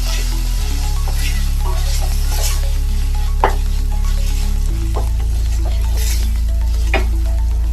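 Chopped tomatoes sizzling in a pan with onions as they cook down into a paste for a prawn thokku, a steady frying hiss with occasional stirring clinks over a constant low hum.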